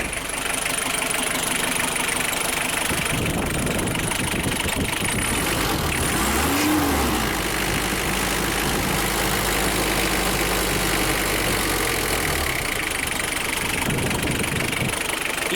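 A 1982 Chevrolet Chevette diesel engine, fitted with new glow plugs, idles loudly and steadily close by, with a rough knocking rumble that briefly revs up partway through.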